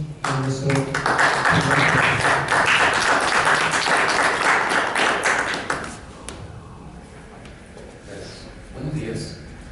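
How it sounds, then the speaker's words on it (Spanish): An audience at a book presentation on Tawantinsuyan philosophy breaks into applause, a dense burst of clapping for several seconds that fades out, with a voice speaking briefly before and after. "Recibamos con fuertes aplausos a nuestro"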